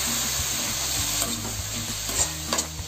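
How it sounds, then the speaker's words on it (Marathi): Field beans and potatoes being stir-fried in a pan for a bitter val bean usal, with steady sizzling and repeated scraping strokes of a spoon, close and alone with no talk. "चांगले असे परतून घ्यायचे"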